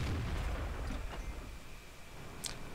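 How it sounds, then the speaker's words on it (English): Blind shots from an AMX AC 48 tank destroyer in World of Tanks: a loud booming cannon report opens, then two more sharp, distant-sounding blasts follow at irregular intervals over a steady background rumble. "So I'm going for a couple of blind shots."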